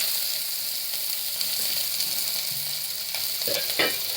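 Mustard seeds, onion and curry leaves fry in hot oil for a cluster bean palya, giving a continuous close sizzle with a few sharper crackles and pops toward the end.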